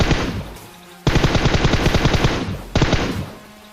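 Rapid automatic gunfire from PUBG Mobile, two sustained bursts of loud close shots with a short pause between, then a third burst starting near the end.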